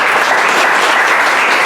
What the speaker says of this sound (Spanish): Aplauso para Melissa